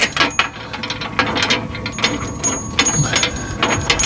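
Ratchet clicks in quick bursts as bolts are tightened on a Reese Sidewinder fifth wheel hitch, close and fairly loud over a busy workshop background, with people talking nearby.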